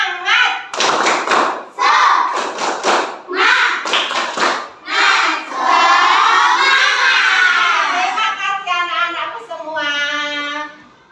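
A classroom of pupils performs a rhythmic clapping chant routine, sharp bursts of claps alternating with children's voices calling out together, then a sustained sung shout.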